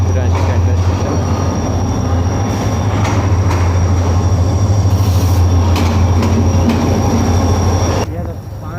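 Train at Karachi Cantonment station in Pakistan, loud steady rumble of rolling carriages with wheel squeal and clatter close by, continuing until it drops off near the end, with a voice talking underneath.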